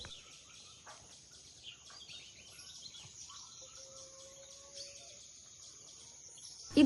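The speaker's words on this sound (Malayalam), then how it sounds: "ഞാൻ രാവിലെ കണ്ണു തുറന്നതിന് പക്ഷികളെ കളകള സൗണ്ടെല്ലാം കേട്ടിട്ടാണ്." Early morning at a cottage inside a forest near Ooty is quiet, with faint scattered bird chirps and a thin, steady insect hum, all distant and soft, and a brief bump right at the end.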